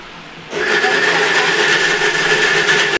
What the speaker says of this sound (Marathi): आता आपण ह्याचं मिक्सरमध्ये वाटण करूया।